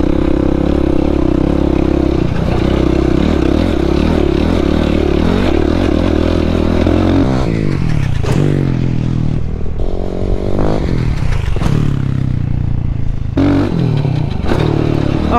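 A dirt motorcycle in third gear rides through desert whoops, its engine loud and steady, then surging and dropping as it rises and falls over the bumps, with rattling and scraping close by.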